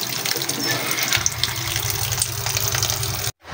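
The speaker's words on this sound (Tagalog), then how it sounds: "I-drain na natin ang ating noodles. Sa running water na lang" Running tap water gushing steadily as cooked chapchae noodles drain under it, a loud, continuous splashing rush that stops sharply at the end.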